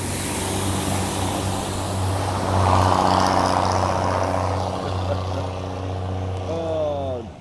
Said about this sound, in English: straight pipes, straight pipes on buses